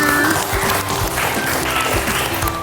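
A group in a school learning session claps together after a quiz round, a busy, continuous patter of hands with faint tonal sounds running underneath.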